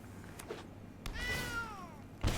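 Cat meow sound effect in the card game MTG Arena: a single drawn-out, falling meow, fairly clear, framed by a few soft game clicks and a thump at the end.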